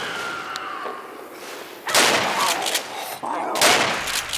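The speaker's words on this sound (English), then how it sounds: "Shoot that zombie in the back." Shotgun blasts from an Ithaca Model 37 in Left 4 Dead 2, fired at zombies: two loud, sharp bangs about a second and a half apart, each with a trailing crackle, over quieter game ambience.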